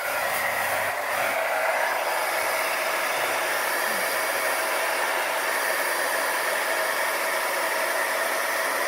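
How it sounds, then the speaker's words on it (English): A heat gun blows steadily over freshly poured acrylic paint, giving a loud, continuous airy hiss with a faint motor hum that holds unchanged from start to finish, with no voices. "This heat gun, I feel, gives you a little more control than the torch"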